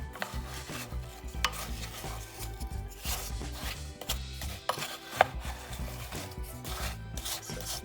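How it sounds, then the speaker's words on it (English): A wooden spoon stirs apples and brown sugar in a crockpot, making soft, rhythmic scraping and knocking sounds. The stirring is quiet and close, with no talking. "I'm just going to get a spoon, a wooden spoon, and mix that all together."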